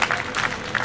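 A Hindi poetry gathering erupts in brief audience applause, with loud dense clapping from a crowd that comes in a few pulsing bursts in under a second.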